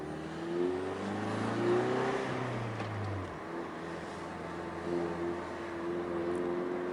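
A turbocharged Ford Mustang accelerates and revs from the driver's seat, engine note climbing and falling over a steady road roar, with no talking.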